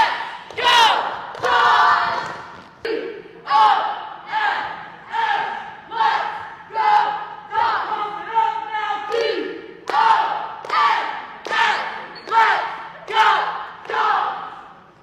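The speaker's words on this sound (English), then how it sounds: "Anybody who knows the cheer, please cheer with them." Cheerleaders lead a crowd in a shouted cheer. Loud, rhythmic bursts of many voices chant in steady pulses for the whole stretch, with occasional thumps beneath.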